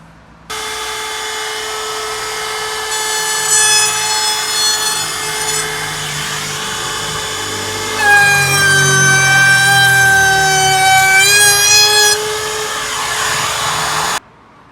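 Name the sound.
router with chamfer bit edging holes in wood board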